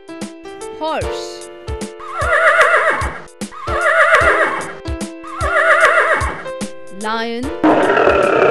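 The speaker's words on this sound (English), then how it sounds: "Horse." A horse whinnies loudly several times in a row, each neigh a shrill, quavering call, over a soft background tune.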